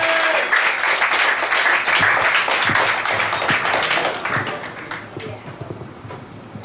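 Applause from a comedy club crowd at a café comedy night in Richmond, Virginia, as a comedian finishes a set: a burst of sharp, scattered claps, fairly close, that thins out and fades over the final seconds.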